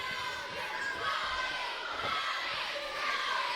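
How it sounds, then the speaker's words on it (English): Wrestling crowd chants for Nobe Bryant during a match, a rhythmic massed chant with shouts and cheers echoing through the venue, steady and fairly loud. "The crowd now getting the chant Nobe Bryant to his face"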